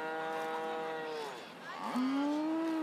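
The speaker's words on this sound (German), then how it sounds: "die Kuh gehört auf die Weide" A cow at a farmers' protest in Germany gives one long, loud, drawn-out moo near the microphone, with a shorter rising low call at the start and faint outdoor background.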